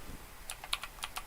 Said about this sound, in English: I keep typing the wrong keyboard.